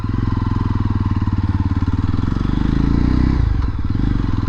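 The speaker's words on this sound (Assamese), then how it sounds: "So এটা বাইকখন চলাওঁ।" A Yezdi Roadster motorcycle with a 334cc single-cylinder, liquid-cooled DOHC engine runs close up, its rapid even firing pulses swelling slightly before the tone shifts near the end, with no voices.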